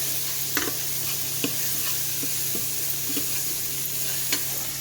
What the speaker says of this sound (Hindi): मैं राजमा यहाँ पे राजमा छौंकने जा रही हूँ।